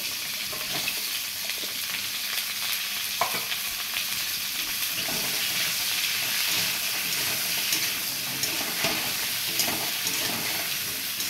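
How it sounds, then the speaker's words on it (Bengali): Ridge gourd pieces sizzle steadily in hot oil left over from frying fish, a dense hiss with occasional stirring clicks throughout. "এবার মাছ ভাজা তেলেই ঝিঙেগুলোকে ভেজে নেব।"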